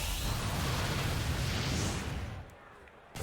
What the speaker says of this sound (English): Lucario is going to go for the Misty Explosion already!